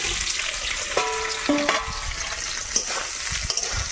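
Boiled soybean chunks fry in a hot pan at home during winter pitha cooking, giving a steady close sizzle with a few sharp pops and scraping stir sounds, and no voice.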